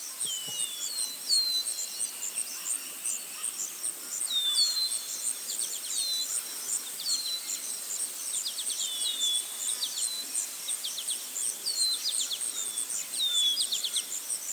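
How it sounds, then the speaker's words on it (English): Dense Tasmanian bush under tall mountain ash eucalypts, alive with a steady high insect drone and repeated sharp, sweeping bird chirps and whistles from several birds, moderately near and continuous throughout. "Isn't it noisy? It's the sound of the Tasmanian bush."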